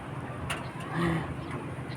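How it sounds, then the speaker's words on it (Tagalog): Outdoor ambience with a soft bird coo or call over a steady, rushing wind noise. "puro hangin tas ibon"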